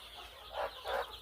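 A desi village hen brooding about 160 chicks gives two soft, close clucks in quick succession over quiet background.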